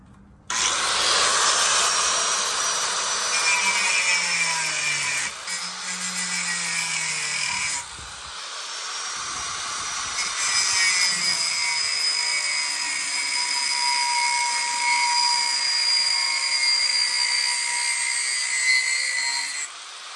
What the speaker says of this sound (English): my dad has an angle grinder, so I'm gonna be using this to cut that